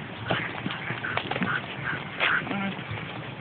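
Ducks quacking outdoors at a nature reserve pond amid rustling and background noise, with a few distinct calls scattered through.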